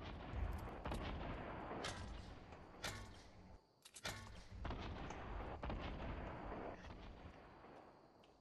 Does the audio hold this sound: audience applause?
no